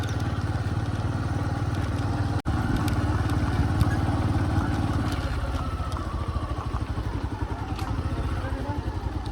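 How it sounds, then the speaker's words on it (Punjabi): A motorcycle engine idles nearby in a forested hill area of Hoshiarpur, a steady low putter with rapid regular firing pulses, broken by one brief click, with faint background voices. "ਬੰਦ ਕਰ ਲਓ ਮੋਟਰਸਾਈਕਲ"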